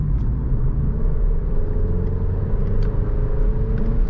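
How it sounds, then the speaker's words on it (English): An Alfa Romeo Giulia's turbo engine hums steadily from inside the cabin while driving, a continuous loud rumble of road and engine noise with a slowly rising tone, no voices. "Very quick revving turbo engine too."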